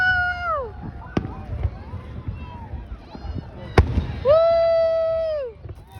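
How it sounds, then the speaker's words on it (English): Fireworks bursting over the River Valley in downtown Edmonton at a Canada Day celebration, with sharp isolated bangs among a rumbling background, whistling tones and a man cheering loudly over them. "Beautiful fireworks."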